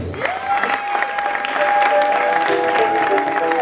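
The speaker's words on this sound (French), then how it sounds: "Est-ce qu'on peut aussi bien l'applaudir pour Maman Ney?" Clapping from a group at an orphanage event for Maman Ney, steady applause mixed with a sustained sung or held voice tone and some background chatter.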